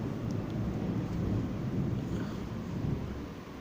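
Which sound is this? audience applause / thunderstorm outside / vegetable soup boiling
thunderstorm outside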